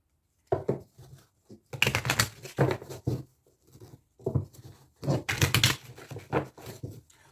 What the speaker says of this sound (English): I'm going to take it and then I'm going to shuffle and get another card.